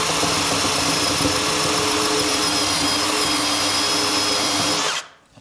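A uni step drill bit reams a hole in a metal window frame, a continuous loud whining drill buzz held steady for several seconds before cutting off abruptly.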